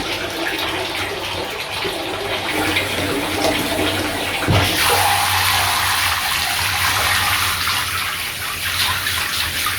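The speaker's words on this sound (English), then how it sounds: "And I am going to grab my shower head." A handheld shower head sprays water to rinse the jewelled hair of a mermaid doll. The hiss and splatter run continuously and loudly, close up, and the tone shifts midway as the stream is redirected.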